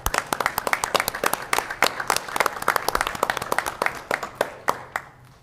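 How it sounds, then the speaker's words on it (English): A modest group at a school board meeting gives a round of applause, close and distinct individual claps forming an uneven, sparse rhythm that tapers off after about five seconds. "Let's give them another big round of applause."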